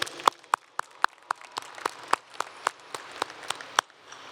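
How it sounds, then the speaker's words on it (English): Graduation audience applauds students who earned career and technology certifications, sharp claps ringing out at a steady irregular pace in a large hall, moderately loud with no talk over them. "Let's give a round of applause for those who have earned those certifications."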